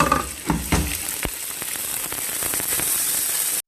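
Rice goes into melted butter in a pan. A few soft thumps at the start give way to a continuous crackling hiss as it is stirred. No speech.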